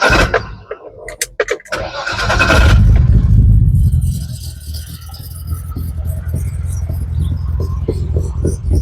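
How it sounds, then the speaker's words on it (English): A restored BMW E30 333i engine cranks with a few sharp clicks, then catches and roars up loudly before settling into a steady, rumbling idle. "Let me just start this car for you guys quickly, right?"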